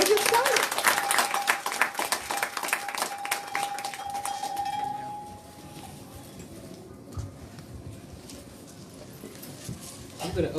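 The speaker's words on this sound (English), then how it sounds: "just give a round of applause to our elders here today" Audience applause for the elders at a gathering, dense clapping through the first half and fading into scattered claps and low murmuring, with a sustained tone and some voices underneath.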